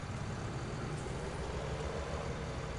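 Blue tractor engine running in an Irish farming video game, a dense low rumble holding steady and fairly close for a few seconds with no talking.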